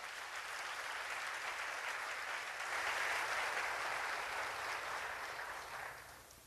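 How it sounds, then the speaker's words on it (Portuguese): A church congregation applauds during a sermon, a broad, even roar of many hands clapping that swells in the middle and fades at the end, heard alone at a moderate distance. "Aplauda o Senhor Jesus por isso."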